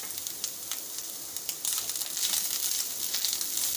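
Ground coriander, cumin, red and Kashmiri chilli powders and salt fry in a pan with a steady close sizzle that grows a little louder partway through. Nobody talks.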